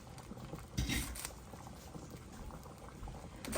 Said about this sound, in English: The potatoes are definitely boiling.